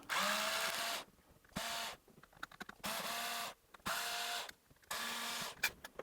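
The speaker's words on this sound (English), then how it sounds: "So we'll go ahead and take the screws out, as well as any other screws we see in this unit" Electric screwdriver backing screws out of a Sega Game Gear casing, five whirring bursts of about a second each separated by short gaps with small clicks and handling taps, close up and without speech.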